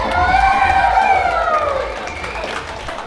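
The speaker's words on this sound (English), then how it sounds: "Ladies and gentlemen, once again, a round of applause for Ivan Tuimavave." Crowd at a rugby league event applauding and cheering for a former player, loud sustained cheers and whoops over clapping, fading slightly toward the end.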